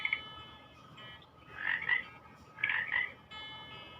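A few faint frog croaks come in short bursts, spaced about a second apart, over a quiet hum.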